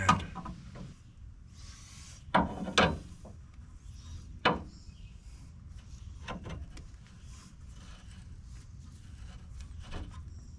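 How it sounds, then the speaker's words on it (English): An inner tie rod on a 1999–2007 Chevrolet Silverado 2500HD is threaded back in by hand, giving faint metallic rubs and a few sharp clicks and knocks against a quiet, hollow garage background. "the inner, you're just gonna start screwing it back in"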